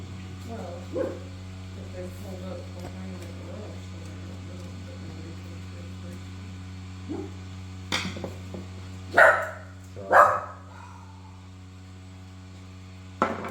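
A dog gives a few loud, close barks near the end over a steady electrical hum, with people talking quietly earlier on.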